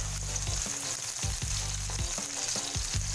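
Marinated chicken frying in hot oil until golden brown, a steady close sizzle with intermittent stirring scrapes and clacks of a utensil against the pan throughout.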